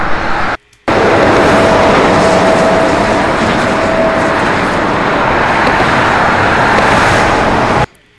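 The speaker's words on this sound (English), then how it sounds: "Went down to a highway and recorded some cars." Cars on a highway, recorded in the field: a loud, continuous roar of passing traffic with broadband tire and engine noise, briefly cut by a short dropout near the start and ending abruptly.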